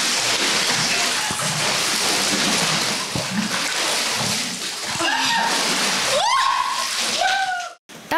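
Winter swimmers plunge into cold spring water by a chapel at dawn, with steady sloshing and splashing building to sharper splashes near the end, under talk.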